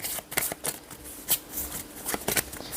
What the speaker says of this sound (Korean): 카드 섞겠습니다